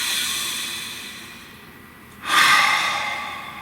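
A single deep breath, a slow quiet inhale then a louder, close, breathy exhale, with no voice over it.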